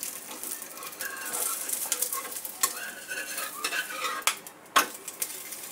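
Dahi dhapate, a Maharashtrian yogurt flatbread, cooks in a pan and is flipped. Low frying hiss runs under busy spatula scraping and metallic clinks, with a sharp knock near the end and no voices.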